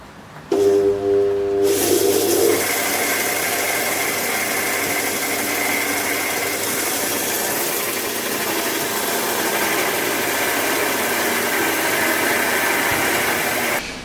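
A seven-year-old bench sander runs with a newly fitted, slightly tight belt, giving a constant whirring drone with a low hum beneath. There is a brief shift in tone near the start, then it carries on steadily alone.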